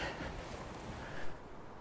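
Wind gusts by the River Tyne at St Peters Basin in Newcastle on a freezing night, a steady rough rumble and buffeting against the microphone, fairly faint with no voices.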